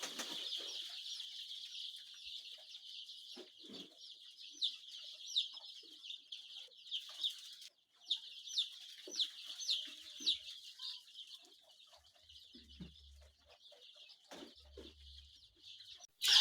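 Young chickens in a poultry farm brooding house give a constant dense chorus of high peeping and chirping, with occasional louder bursts and a faint low hum beneath, no voices.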